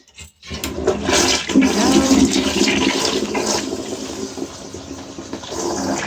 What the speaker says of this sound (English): or you can flush it